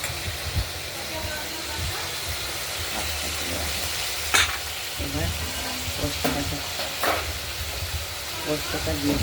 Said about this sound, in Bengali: চিংড়ি মাছটা দেখতেই পাচ্ছেন ভাজা হচ্ছে